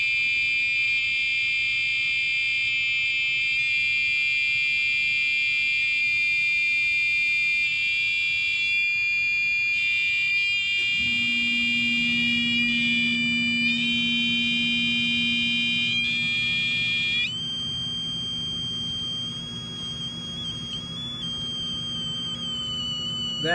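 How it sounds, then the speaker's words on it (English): A 555 timer oscillator circuit runs wide open with a continuous shrill electronic buzz. Its pitch shifts and wavers several times, and a lower hum joins partway through. The sound is loud, close and steady, with no talking. "You hear that oscillation? Listen to the sound. That's something turning on and off."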